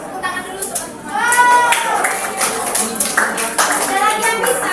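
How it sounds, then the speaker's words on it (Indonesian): Classroom students clapping for a teacher's lesson: a burst of mixed applause over children's chatter and voices, near and lively, lasting several seconds. "Tepuk tangan dulu teman-teman."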